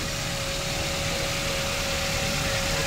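Steady idle of a Toyota Avanza engine just after starting, a constant hum with a faint whine, even and unchanging.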